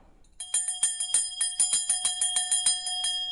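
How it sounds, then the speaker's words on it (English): A small bronze bell built into a sculpture is rung rapidly, with about fifteen bright, ringing strikes in an even rhythm. The strikes are close and clear, and the tones overlap as they decay. "And this is the bell."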